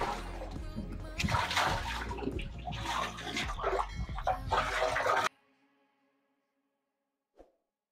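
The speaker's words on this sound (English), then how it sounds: "I'm going to be sprinkling it into the pond" Salt solution is splashed and sprinkled into a catfish pond, a busy run of watery splatters and pours that stops abruptly, followed by near silence and one faint later drip.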